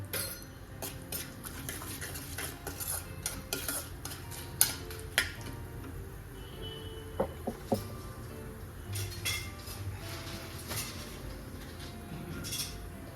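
Bhel ingredients are stirred and roasted in a pan, giving soft scraping and light clinks from a utensil against the pan, with a faint sizzle and no talking.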